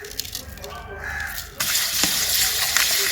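Tiny fish are washed in water after being rubbed with salt, first with soft handling and rubbing noises, then a sudden steady gush of running water, outdoors in a village with a crow cawing faintly.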